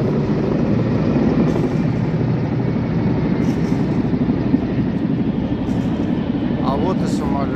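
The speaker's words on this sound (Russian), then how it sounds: "Это у нас полетели вертолетики, три группы" Three groups of helicopters pass overhead during a navy parade rehearsal on a city embankment, a loud steady rotor rumble and drone filling the scene, with faint voices from the crowd.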